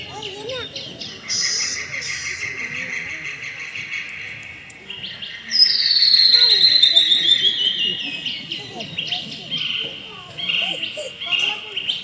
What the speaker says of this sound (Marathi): पक्ष्यांची किलबिल तुमच्या माझ्या कानावर येते.